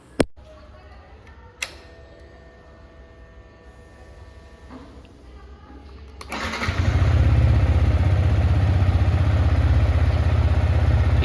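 A motorcycle engine idles loud and close, settling as its revs drop, after quieter clatter and a couple of sharp knocks in the opening seconds; no one speaks.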